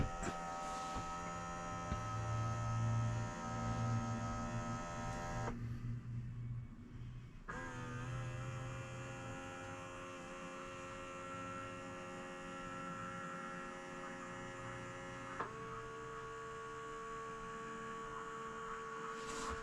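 A PetPivot Autoscooper 11 automatic litter box runs its motor with a steady electric hum and whine, shifting pitch partway through as it changes direction, close and alone with no talk.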